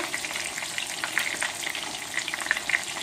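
Chicken pieces frying in oil in a pan for chicken parmigiana, a bright crackling sizzle full of small popping spatters, steady and close with no talking.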